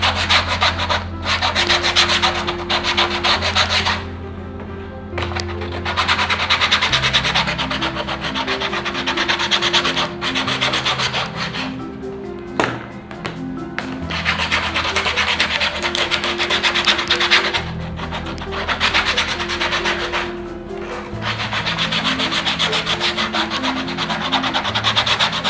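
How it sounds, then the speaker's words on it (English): Sandpaper rubs back and forth across a shoe insole surface during shoemaking, a close, steady rasping scrape in long repeated strokes with brief pauses, alone without talk, over faint background music. "So we have to scratch the surface of the insole too."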